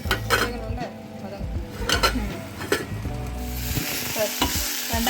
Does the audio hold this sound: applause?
no